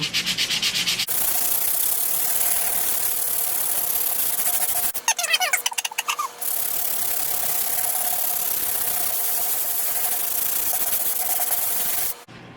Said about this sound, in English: that should help me when I'm sanding it